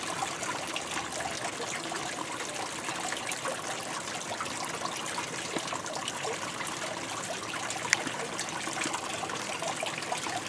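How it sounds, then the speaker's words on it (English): Water trickling at Harding Spring, a rocky-ledge spring with a bathtub-like basin in Eureka Springs, Arkansas; a steady, soft continuous flow heard close by with no talking. "Here's the Harding Spring."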